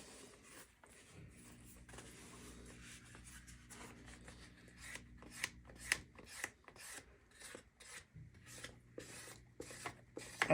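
A draw knife blade for shaping axe and tool handles being stropped, giving a run of repeated rasping strokes that grow louder and quicker toward the end, near and alone.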